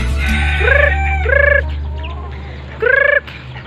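Backyard chickens in rural Quezon Province give loud, close clucking calls in three distinct bursts, each a rapid pulsing squawk separated by short pauses, with a steady low hum underneath.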